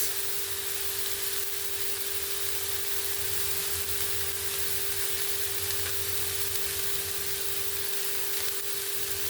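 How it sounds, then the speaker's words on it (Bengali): Chopped carrots and beans fry in a pan with a steady, continuous sizzle and hiss, with a faint hum underneath and no voices. "দিয়ে ভালো করে একটু ভেজে নেব আমি সবজিগুলোকে হালকা করে একটু ভেজে নিয়েছি"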